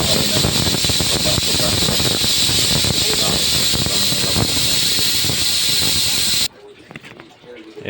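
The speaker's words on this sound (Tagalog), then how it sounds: "Ang kumukulo-kulo na." A pot of native chicken stew with innards boils hard, giving a steady loud rushing hiss and bubbling that runs for about six seconds before dropping off abruptly to quiet.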